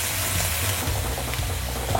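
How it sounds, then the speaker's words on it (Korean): Pork stir-frying in a pan for mala xiang guo, a steady close sizzle running the whole time with faint stirring and no talk. "돼지고기를 먼저 볶아줄 거예요."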